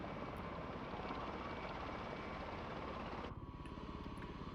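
Helicopter rotor and engine drone in Microsoft Flight Simulator, a steady loud continuous whir that drops abruptly in level near the end, with no talking.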